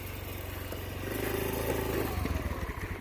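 A scooter engine revs up as the throttle is opened a little during a beginner riding lesson, a steady motor hum rising into a louder, throbbing rev toward the end.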